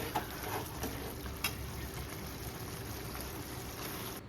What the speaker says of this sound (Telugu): ఇప్పుడు ఆకులు వేసుకుందామండి.